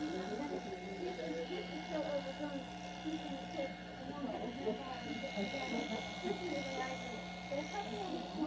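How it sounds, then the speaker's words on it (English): Electric clippers buzz steadily at low level while grooming a Scottish Terrier's head, a constant hum running throughout under a person talking. "now I'm basically finished with the clipper work"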